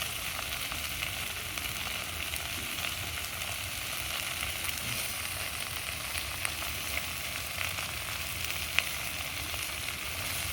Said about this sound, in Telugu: పుదీనా, కొత్తిమీర అన్ని ఆకులు వేసి అన్ని ఆకులు బాగా ఫ్రై చేసుకో